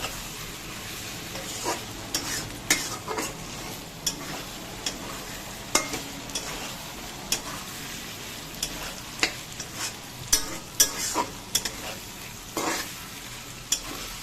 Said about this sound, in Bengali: হালকা হাতে দুটোকে মিশিয়ে নেবে নাহলে ডিমটা একদমই পুরোটা কুচিয়ে যাবে